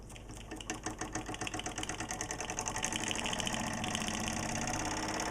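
An antique ERTL stationary jack engine runs steadily, its rapid, even mechanical chugging and clatter building slightly in loudness before settling into a constant close-up rhythm.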